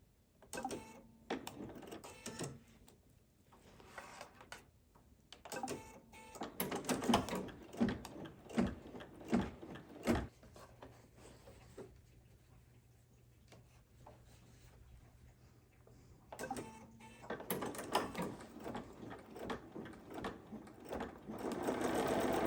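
An embroidery machine sews a fabric placement line for a Kimberbell snow-themed hot pad, giving a steady rapid needle chatter in several runs with short stops and quieter stretches between.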